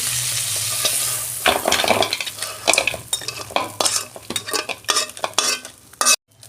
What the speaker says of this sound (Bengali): দু মিনিট আমি একটু ভেজে নেব। দেখুন বন্ধুরা, কাঁকড়া আমার ভাজা হয়ে গেছে